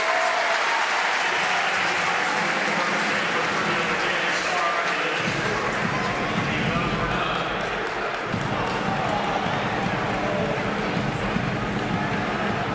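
College basketball arena crowd at a Wake Forest–Duke game reacting with a sustained roar and applause, a dense wash of noise that swells midway, with a commentator talking over it.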